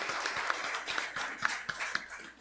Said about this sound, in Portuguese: vamos receber essa nossa convidada com uma salva de palmas bem calorosa